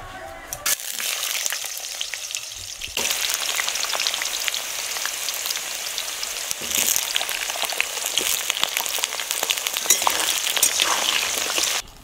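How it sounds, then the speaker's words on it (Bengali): Potatoes fry in oil in a wok as the first of several vegetables cooked separately for a Bengali dish. A short quiet start gives way to a steady, dense, crackling sizzle that carries on unbroken at close range. "এবার এই তেলে আমি আলু, প্রত্যেকটা সবজি আলাদা আলাদা করে ভেজে নেব প্রথমে।"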